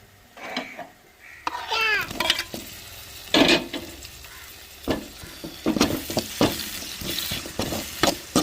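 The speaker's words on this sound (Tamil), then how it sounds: "நம்மளுக்கு வெள்ளைப்பூடு வெங்காயம் எல்லாமே நல்லா எண்ணெயிலே கொஞ்சம் நேரம் வதங்கி வரட்டும்" Garlic and onion sauté in oil while a spoon scrapes and stirs the pan in irregular bursts, with a soft sizzle underneath and occasional voices nearby.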